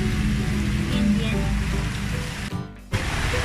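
Steady rain falls outdoors in a garden planted with philodendrons and crotons, a broad continuous hiss that briefly dips near the end before resuming, with speech-like sound mixed in.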